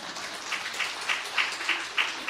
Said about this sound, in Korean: 잘했다고 생각하면 박수 한번 보내줘요